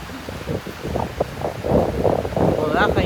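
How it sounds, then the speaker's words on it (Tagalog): Strong wind buffets the microphone during a boat ride to a hotel on Boracay, a continuous gusty roar with low rumble, while people talk over it throughout. "malakas lang ang hangin"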